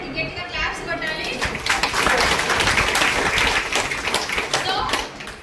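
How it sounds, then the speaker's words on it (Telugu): A classroom audience claps loudly and steadily after a student gives a good answer in a lesson about skin and sweating. The dense applause swells and then trails off near the end, with voices mixed in. "గట్టిగా క్లాప్స్ కొట్టాలి."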